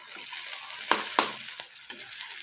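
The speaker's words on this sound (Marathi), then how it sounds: "आपण अशी छान अशी खिचडी परतून घेणार आहोत" Sago khichdi is sautéed in a pan, giving a soft, steady frying hiss punctuated by a few sharp stirring scrapes and clicks of the spoon, close and moderately quiet, with no talking.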